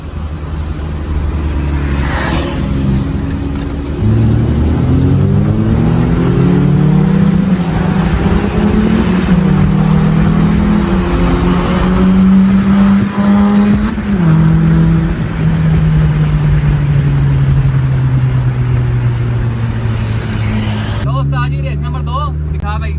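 A Suzuki Project FX and a Toyota Grande 1.8 accelerating hard side by side in a drag race, engines rising loud and near through the gears over roughly twenty seconds while people talk.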